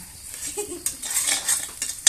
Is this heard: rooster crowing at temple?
no